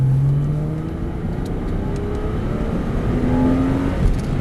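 A Porsche Boxster accelerating hard on a driving-school track, its engine note rising steadily and loud throughout, with gear-change dips in pitch and continuous roaring close to the car.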